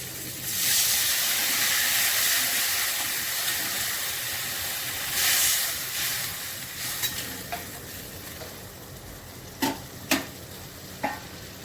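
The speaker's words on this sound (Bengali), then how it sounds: "এবার আমি জল দিয়ে দিলাম" Water is poured into a hot pan of potatoes and green chillies for a carp curry with ridge gourd. A loud, rushing hiss of steam lasts several seconds, then fades into a gentle bubbling with a few sharp clinks.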